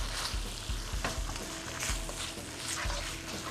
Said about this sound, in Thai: ผมใส่ ใบไปก่อนเลยครับ เพื่อให้คั่วตรงนี้ให้หอมสุกหน่อย